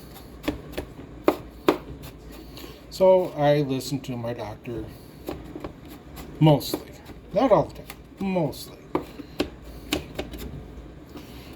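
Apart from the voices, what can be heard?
chopping with a knife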